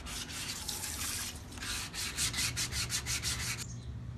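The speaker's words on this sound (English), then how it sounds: "Okay, the sanding is right where I am happy with it." Rust is sanded by hand off a wheel rim, close scratchy strokes that speed into a quick, regular back-and-forth rhythm and then stop abruptly.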